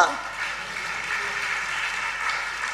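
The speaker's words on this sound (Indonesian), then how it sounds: "Beri tepuk tangan bagi dia." A church congregation applauds during a service, a steady wash of clapping at moderate level that follows a brief louder onset and continues evenly.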